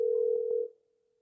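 A steady telephone dial tone heard while placing a call, holding a single even pitch for about two thirds of a second before cutting off into silence.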